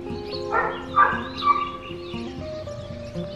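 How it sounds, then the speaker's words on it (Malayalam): Dogs bark a few times in quick succession during an early, cold, fog-covered morning in Kodaikanal, sounding moderately distant and mixed with chirping birds and a low steady background. "പട്ടികളുടെ ശബ്ദമുണ്ട്."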